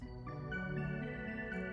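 A sustained electric guitar chord rings out in a mystical song, centered and spacious with heavy reverb, holding an even volume throughout without any voices.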